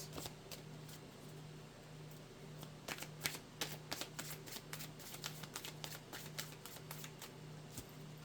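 Mystical forest oracle cards being shuffled by hand, a quiet, close run of crisp riffling flicks and taps repeating irregularly over a faint steady hum, with no talking.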